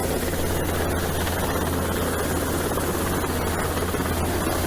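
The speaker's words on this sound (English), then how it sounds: "The helicopter will line up on the boat." An Irish Coast Guard helicopter hovers low over a sailing boat off Waterford, its rotor thudding and engine roaring loudly and steadily throughout, with no talk.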